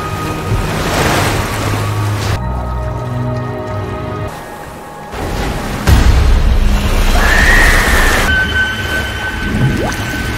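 Ocean waves crash and surge onto a beach in a film scene, a loud rolling roar with wind and shifting layers of surf and background score.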